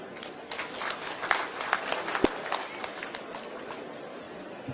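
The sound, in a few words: audience applause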